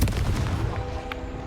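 A Confringo explosive spell from Hogwarts Legacy goes off with a loud blast, a booming, gunfire-like crack up front followed by rumbling low debris that trails off over about a second and a half.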